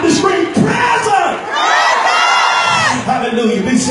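A church congregation screams and shouts together in response during a sermon, a loud sustained roar of many voices for the whole stretch.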